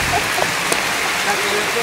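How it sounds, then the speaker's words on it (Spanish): Steady rain falls in the jungle near San Ignacio, a broad even hiss with scattered drop ticks throughout, and faint voices in the background. "Esperando que pase la lluvia."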